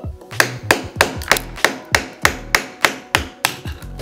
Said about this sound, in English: there's all the raised concrete where it was, so I'm gonna start chiseling that out